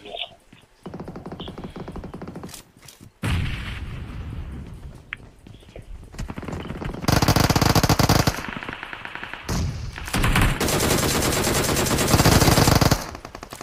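Rapid automatic fire from the seven rifle in BGMI crackles in long sustained bursts, with several loud stretches of continuous shooting broken by short pauses and scattered single shots.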